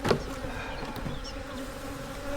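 Honeybees buzz steadily around an open hive during an inspection of a queenless colony, a dense close hum with a sharper burst at the very start.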